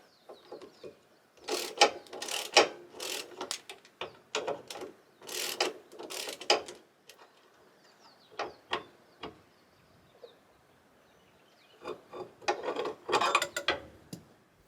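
A ratchet wrench clicks in quick bursts as the flange nut on a car's drivetrain is broken loose during roadside maintenance, with short pauses between runs of ratcheting and a final flurry near the end.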